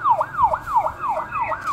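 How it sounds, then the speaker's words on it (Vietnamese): A toy talking card reader plays a police car siren effect: a rapid electronic wail sweeping up and down about five times in quick succession, clear and close with no voices over it. "Police car."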